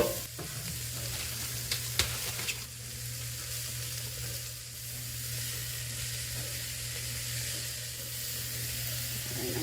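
Fresh garlic sizzles and hisses on a food truck griddle, a steady close frying crackle with brief stirring scrapes near the start.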